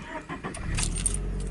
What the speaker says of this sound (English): Engine sounds pretty nice